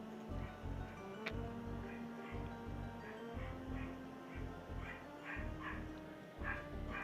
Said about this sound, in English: My dogs are losing their mind again.